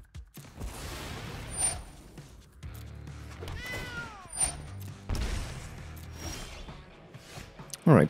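A cat card in the digital card game MTG Arena gives several meows and a drawn-out yowl among game sound effects and clashing noises.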